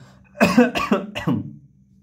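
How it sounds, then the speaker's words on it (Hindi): Three quick, harsh coughs in a row, close and loud, followed by a brief quiet. "भाई खांसी हो गया।"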